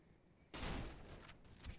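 A single loud sniper rifle shot in the Cry of Fear game, a sharp broadband crack that starts abruptly and rings on with a short tail over a faint steady background tone.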